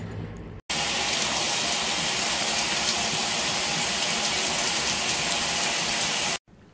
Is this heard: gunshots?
no